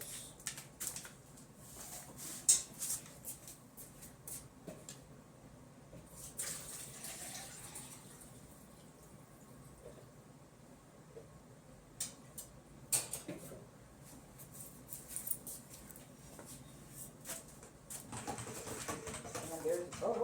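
A pot of Anago black soap bubbles as it cooks, giving soft intermittent pops and gurgles, with short bursts, quiet gaps and some speech nearby.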